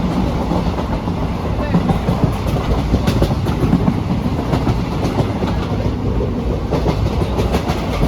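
The Bhagirathi passenger train rolls along the rails toward Sealdah, a loud, continuous rumble with rhythmic clickety-clack of wheels over rail joints, heard from inside the carriage with faint voices in the background.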